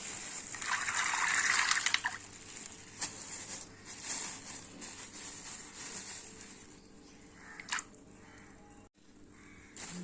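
Water poured over almonds in a bowl to soak them, a close gushing pour early on that thins to light trickles and drips, with a few small clinks.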